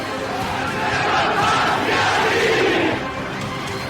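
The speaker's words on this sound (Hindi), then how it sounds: "लाखों की भीड़ जुटी" A huge crowd at a PTI rally in Peshawar roars in a dense, swelling mass of voices and chanting, loud and continuous, peaking midway before easing slightly.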